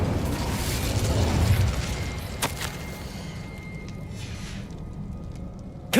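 Incendio fire spell cast in Hogwarts Legacy, a roaring whoosh of flame with a heavy burst at the start, then a sharp crack and a lingering rumbling fade.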